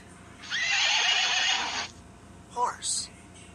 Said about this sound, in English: Where is the horse?